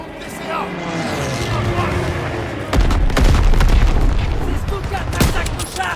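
Cannon and gunfire in a Call of Duty WWII D-Day battle, heavy booms and bursts of shots layered over a constant rumble of combat, with soldiers shouting orders throughout.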